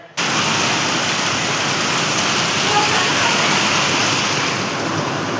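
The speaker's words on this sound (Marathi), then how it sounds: "पण इकडे खूप पाऊस चालू आहे" Heavy rain pours steadily after an abrupt start, a dense, loud, even hiss of falling water with no break, heard up close.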